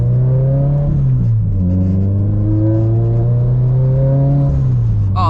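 A turbocharged Subaru BRZ engine revs in a strong, steady drone whose pitch climbs, dips, rises again and then falls, with a whirring turbo tone riding over it, loud and close with no voices.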